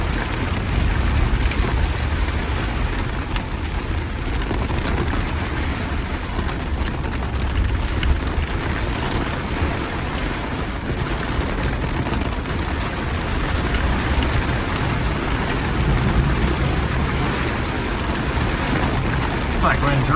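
Heavy thunderstorm rain pelts a Jeep JK driving through flooded trail roads, a dense, steady roar of drops and splashing water mixed with engine noise, with people talking over it.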